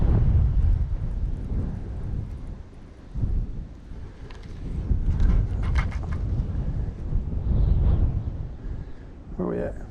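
Wind roars continuously across the microphone while someone is out fishing, a heavy buffeting rumble that rises and falls over the whole stretch, with a brief higher rustle near the end.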